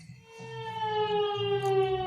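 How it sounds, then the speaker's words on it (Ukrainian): A Ukrainian air raid alert siren wails in a steady, sustained tone, loud and continuous, sounding alone without any voices. "А тут повітряна тривога."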